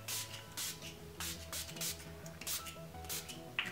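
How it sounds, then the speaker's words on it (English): A series of quick, close spritzes from a makeup setting spray bottle, each a short hissing burst, repeating in an uneven rhythm over a faint background. "And then I'm gonna be topping it off with my Skinnavia Setting Spray."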